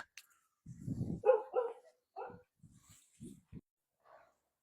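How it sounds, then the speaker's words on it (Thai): A dog barks in a short burst of several close woofs, then gives a few softer yelps and whimpers, with quiet gaps between them. "หมามันเห่า"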